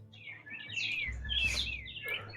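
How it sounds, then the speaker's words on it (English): Several birds chirp and tweet in quick, bright bursts picked up through a game player's microphone, fairly close and clear with a low hum underneath and no talking. "Where are the birds coming from, for fuck's sake?"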